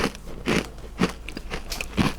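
Crunchy bites into a Dubai-style pistachio dessert, close and crisp, with four distinct crackling crunches spaced about half a second apart and no talking.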